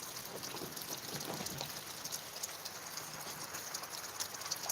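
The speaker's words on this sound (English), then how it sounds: "while we're watching it rain." Chilly rain falling steadily outdoors, heard from a porch as a dense, even patter of drops with no talking.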